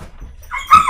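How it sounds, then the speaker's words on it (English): Dogs bark at an animal out back, a short muffled bark rising at the end of the moment, heard from a distance within the house. "That was my dogs."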